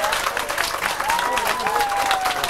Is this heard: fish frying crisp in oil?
no